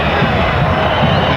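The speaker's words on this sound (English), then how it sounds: "And as you can hear from the crowd, the wolf whistles, they don't appreciate that sort of play from Brazil" A football stadium crowd at a 1999 Copa America quarter-final between Brazil and Argentina roars steadily, a loud, dense wash of voices and whistling with no pauses.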